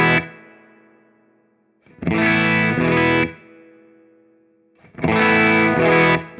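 A Hamstead Artist 60+RT guitar amp set to its 5 dB position breaks up into crunchy, overdriven chords, with two loud strummed bursts around a minute apart in feel, each ringing out and decaying, with no talking.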